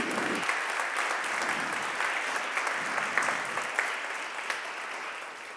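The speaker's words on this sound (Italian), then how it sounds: "i ragazzi Paolo, Eric, Anna, Nicola, diamo un grande applauso." Audience applause at a B Corp Italia founders' event, steady dense clapping throughout with a few sharper claps standing out, moderately distant.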